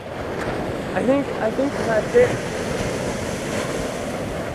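Ocean surf washing against the shore at a vacation beach, a steady broadband wash with wind buffeting the microphone, while a person talks briefly over it nearby.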